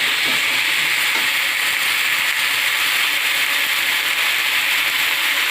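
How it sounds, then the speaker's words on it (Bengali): Ginger and onion paste frying in a pan while being stirred, giving a steady, close, bright sizzle and hiss with faint scraping underneath, no talking. "এবারে আদা বাটা পেঁয়াজ বাটাটা দিয়ে দিলাম, দিয়ে একটু নাড়াচাড়া করে নিই।"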